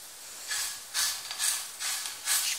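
Sizzling of rezzat el kadi, a turban-shaped pastry, frying in its own released fat in a pan: a steady hiss that swells in five or six rhythmic bursts, close and fairly loud.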